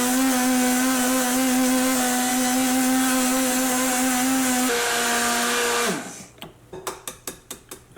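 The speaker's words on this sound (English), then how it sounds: "I'm gonna use my blender here" A kitchen blender whirs loudly and steadily through batter for puto-pao meat pie, its motor pitch dropping as it spins down and stops, followed by a series of rhythmic clicks and taps.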